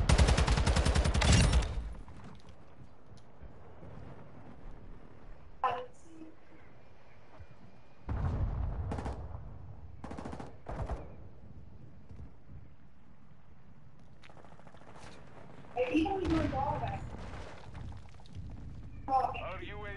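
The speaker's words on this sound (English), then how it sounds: "Hostile precision airstrike." Precision airstrike explosions erupt in a video game as a few loud, broadband blasts separated by quieter gaps, with faint voices now and then.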